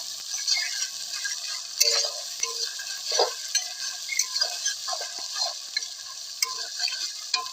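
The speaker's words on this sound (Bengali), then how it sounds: "কাঁচা রসুন বাটা, সেটা সুন্দরভাবে ভেজে নেবো" Raw garlic paste frying in a pan for a chicken curry, a soft continuous sizzle with scattered clicks and stirring scrapes, close and steady with no talk.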